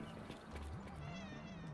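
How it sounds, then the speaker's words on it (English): A cat in the Wuthering Waves video game gives a soft, drawn-out meow with a rising and falling pitch, quiet and close against faint background game ambience. "Can I pet the cat?"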